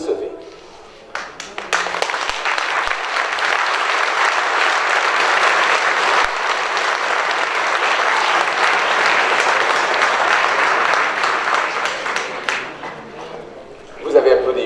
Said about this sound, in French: Vous avez applaudi une phrase trop tôt